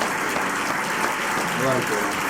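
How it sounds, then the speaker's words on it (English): Audience applause at a stand-up comedy set, a dense, steady wash of clapping heard at moderate distance, with a voice briefly cutting through near the end. "Another round of applause, man."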